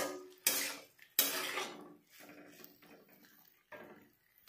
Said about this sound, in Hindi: अब इसमें मैं टमाटर को डाल लेती हूँ और इसे मैं मिक्स कर लेती हूँ